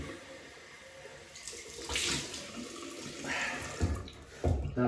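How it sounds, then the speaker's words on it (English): Cold water running from a tap to rinse after a wet shave, a steady splashing flow at moderate loudness with a few louder gushes and spatters toward the end. "Cold water rinse."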